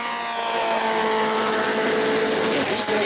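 Loud, continuous engine roar of race cars at speed during a heat race at New Smyrna, steady and close with a sustained high-revving drone throughout.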